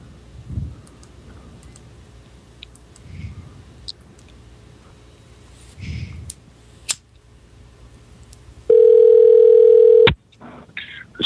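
A steady telephone dial tone sounds for about a second and a half during a call back, following quiet room noise and soft clicks, with brief faint handling sounds after it.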